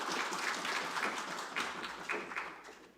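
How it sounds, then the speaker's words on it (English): Audience applause at a conference session, fairly quiet and uneven, a scattered patter of hands that rises and dips across a few seconds with no voices over it. "and a round of applause, colleagues."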